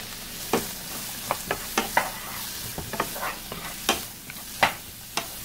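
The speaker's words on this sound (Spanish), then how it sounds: "Agregamos la cebolla. Vamos a dejar que la cebolla se haga transparente o cristalina." Onion softening over low heat in a pan for mushroom quesadillas, a gentle continuous sizzle punctuated by irregular close scrapes and clicks of a spatula stirring.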